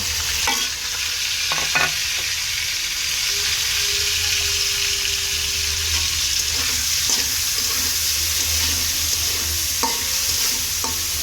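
Chicken frying with tomato, green chilli and onion for noodles, a loud, continuous hiss of hot oil with occasional stirring knocks, and no talking.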